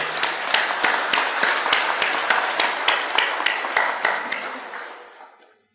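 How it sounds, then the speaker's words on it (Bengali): An audience at a police week ceremony claps steadily, sharp hand claps in a brisk even rhythm that gradually thin out and fade to silence. "সবাই মিলে আপনার জোরে হাততালি"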